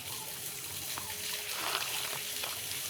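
Water of the Markundi river flows along a Konkan bank near Kunkeshwar, a soft steady rush and trickle with faint voices in the background.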